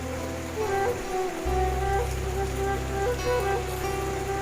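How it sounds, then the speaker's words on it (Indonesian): Heavy rain pours steadily around a rice-field hut, a dense continuous hiss of drops on surfaces with low rumbling undertone throughout. "Ini suasananya hujan deras guys."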